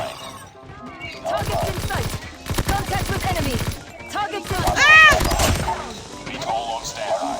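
A PPSh-41 submachine gun in Call of Duty Mobile fires in fast, rattling bursts, loud and close, broken by short pauses, with game sound effects and a voice speaking between volleys.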